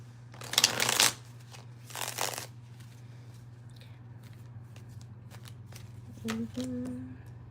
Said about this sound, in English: we'll start with the Light Seers Tarot